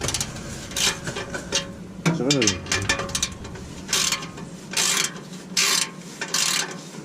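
A ratchet wrench tightens a muffler bolt on a 1990 Honda Accord, giving several bursts of rapid clicking, close and fairly loud, with short pauses and a brief metallic rattle between them.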